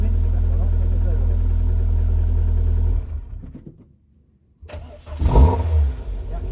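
An MG TF car engine runs at a steady, close idle, then cuts out into near silence before restarting with a loud burst and settling back to a running rumble.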